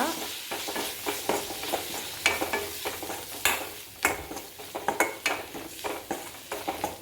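Sausage curry sizzles in a pan as spice powders such as coriander, turmeric, pepper and chili are stirred in, with repeated scraping strokes and spoon knocks in an irregular rhythm over a low fry, with no talking.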